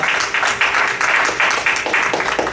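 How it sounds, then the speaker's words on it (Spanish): A congregation at a Bible-study church service applauds Jesus Christ, a close, energetic clapping in loose rhythmic pulses, fairly loud and continuous, with no one speaking over it. "Denle un aplauso a Jesucristo"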